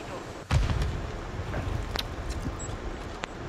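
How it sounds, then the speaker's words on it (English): Grenade explosion in Call of Duty Warzone on Rebirth Island: a single heavy low boom near the start, followed by rumbling game noise with a few sharp cracks and voices talking over it. "Grenade out."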